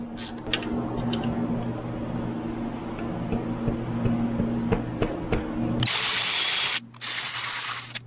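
A ratchet tightens a bolt while an alternator goes into a Magnuson supercharger install on a 2019 Jeep Wrangler Rubicon JL. Steady rapid clicking runs close and clear, then gives way to a louder bright hiss near the end.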